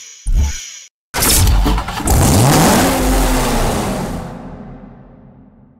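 2010 Dodge Viper SRT10 American Club Racer engine in Need for Speed Hot Pursuit Remastered, a short blip, then a loud close rev that climbs and slowly fades out.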